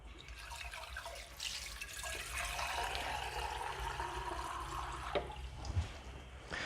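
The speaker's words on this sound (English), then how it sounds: "I'm just going to grab a tiny bit of fresh water," Cold water runs from a tap into a container while a Breville Oracle Touch espresso machine is cleaned, giving a steady, fairly faint splashing stream that ends with a couple of soft knocks.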